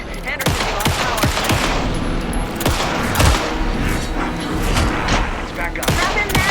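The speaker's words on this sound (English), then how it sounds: "Anderson, pin him down with gunfire for me to get the light on him" Gunfire in the video game Alan Wake 2 crackles in dense, rapid bursts of loud shots, overlapping with voices talking throughout.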